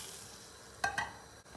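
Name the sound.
stirring chicken soup after pouring mint oil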